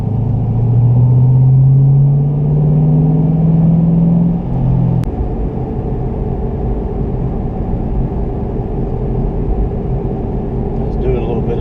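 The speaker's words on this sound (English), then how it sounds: "just doing a little bit of driving out here in the country with the GT here" A 2018 Ford Mustang GT cruises along a country road, its engine a steady low rumble with a strong rising pitch sweep in the first four seconds before settling into even, loud road drone.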